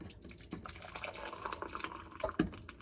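Hot chocolate trickles from a pot through a sieve into a cup, a faint, uneven splash and drip with a few sharper spatters near the end.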